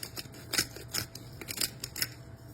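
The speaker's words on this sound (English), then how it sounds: "And just keep whisking till it gets nice and smooth." A whisk beats a potato mixture in a bowl in quick, close, rhythmic strokes, a series of short scraping taps repeating about twice a second with no talk.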